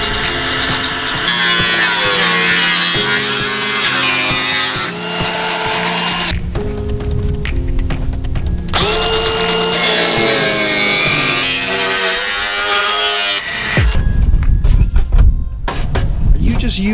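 Sheet metal is torn and cut from a kei car body with pliers, giving loud, uneven scraping and creaking in bursts, with a heavier rattling crunch near the end.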